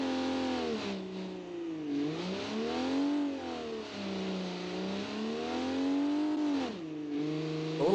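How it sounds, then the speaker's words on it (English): Loud, raw engine of a BeamNG video game car running with no exhaust, revving steadily up and down through gears with a harsh buzzing tone for the whole stretch, close and alone without talk. "This thing has no exhaust. It's very loud."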